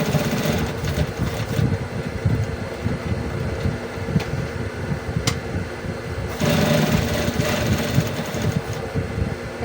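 A sewing machine runs steadily for about ten seconds, stitching scrap fabric into a doormat, with a dense motor whir and rapid needle chatter and a brief surge near the end, and no talking.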